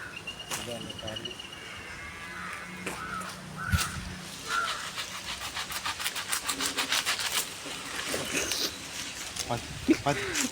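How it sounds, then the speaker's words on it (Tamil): A large Kalparavalli banana bunch is cut outdoors, giving rhythmic rubbing, sawing strokes that grow into a quick series of hacks. Crows caw loudly nearby and voices talk throughout. "கல்பரவள்ளி வாழைத்தார் பெருசாக விட்டுருக்கு நாங்கள் இப்போ வெட்ட போகிறோம்"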